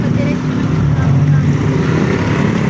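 Heavy truck rolling by in congested road traffic, a steady loud low rumble of engine and tires that holds throughout with no clear peak, mixed with general street noise.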